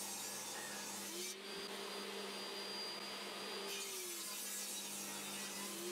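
A table saw with its blade tilted to 45 degrees runs steadily, cutting the corners off a wooden mallet head; a continuous loud motor whine and cutting noise holds throughout.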